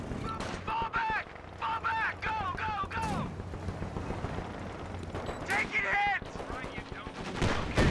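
Gunfire and grenade blasts in the real-time strategy game Company of Heroes 2, rattling machine-gun bursts and explosions throughout, with shouted in-game voice lines of soldiers over the battle.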